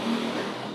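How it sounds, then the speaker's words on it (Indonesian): Motorcycle passing on the road outside a home, a brief close whoosh of engine and tire noise lasting under a second, steady and fairly loud with no talking. "Tuh orang naik motor kayak gitu tuh."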